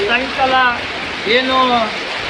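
Heavy rainwater floods through the streets of Badami town, a steady broadband rush of flowing water heard up close, with someone talking over it.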